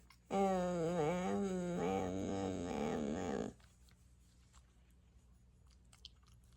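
Dog growling and grunting up close, a loud wavering throaty rumble lasting about three seconds before cutting off into quiet room noise.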